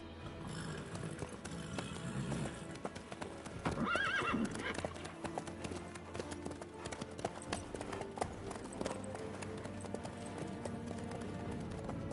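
A horse in The Witcher 3 clip-clops along at a steady pace with a brief whinny in the middle, hooves close and continuous over quiet ambient background.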